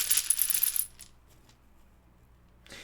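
Several dice rattle and clatter together inside a cloth dice bag, a close, bright jumble of small hard knocks for just under a second, followed by a few scattered clicks and then another short rattle.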